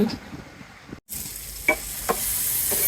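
Eggplant fritters frying in a pan, a rising hiss of oil with a few sharp scrapes and taps from a utensil, close and without speech after a brief break in the sound.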